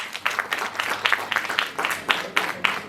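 Crowd clapping at a Kannada film song release event, a lively burst of applause with scattered louder claps, fairly close and sustained.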